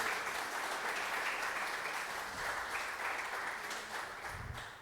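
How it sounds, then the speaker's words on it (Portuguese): Congregation at a Sunday church service applauding steadily, a dense wash of many hands clapping close by with a faint voice or two underneath, fading slightly toward the end. "Você pode dar mais uma linda salva de palmas ao Senhor?"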